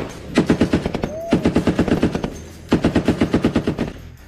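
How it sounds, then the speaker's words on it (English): Machine gun fired during a weapons pre-fire check aboard a U.S. Navy destroyer: three rapid bursts of about eight to ten evenly spaced shots each, loud and close, separated by brief pauses. "Anything in our job that we shoot, we always have to do pre-fires."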